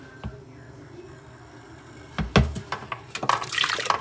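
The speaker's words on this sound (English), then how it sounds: "And just swish it around. Let that acid kind of just work everything out." Acid cleaning solution swishes in a VEVOR cleaner tank: near-silence at first, then close, irregular sloshing and splashing bursts that build through the second half.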